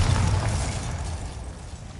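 A Bombarda blasting spell explodes in a Harry Potter video game, a single deep boom at the start that rumbles and fades away over two seconds.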